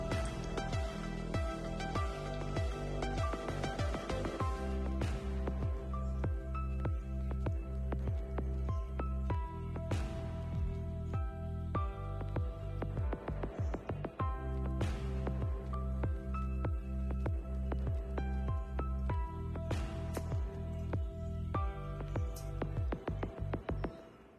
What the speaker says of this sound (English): Then I am adding the soaked oats, layering it.